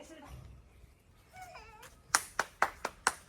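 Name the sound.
people clapping hands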